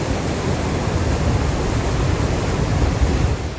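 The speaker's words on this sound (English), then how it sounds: "One of the biggest, if not the biggest, waterfalls in all of Africa" Victoria Falls on the Zambia–Zimbabwe border thunders in a steady, dense roar of falling water, loud and unbroken throughout with no voices.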